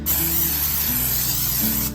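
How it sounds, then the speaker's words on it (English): Butter-flavored non-stick cooking spray hisses steadily from an aerosol can into a 9x13 baking pan, one continuous close, loud spray lasting a couple of seconds with no talking. "I'm just going to spray it with a non-stick spray very well."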